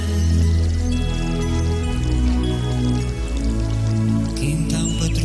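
A soft patter of rain runs beneath steady, droning musical tones, fairly loud and continuous.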